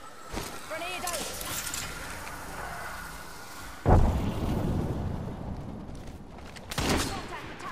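A grenade explodes in the battle royale game Apex Legends with a sudden loud boom, followed by a second, smaller blast amid continuous gunfire and other combat noise, while someone talks over it.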